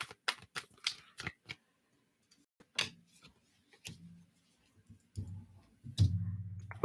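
Computer keyboard keys click in quick, irregular bursts up close, then pause before a few heavier low thumps and rustles as the keyboard is shifted on a desk.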